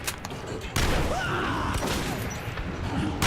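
Gunfire in Metro 2033 Redux, a burst of shots from a broadband blast that then holds as a dense, continuous roar with game noise layered over it.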